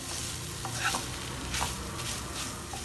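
Minced baby shark being stir-fried with sautéed onions, coriander and curry leaves, a steady close sizzle broken by repeated scraping strokes of a spatula against the pan.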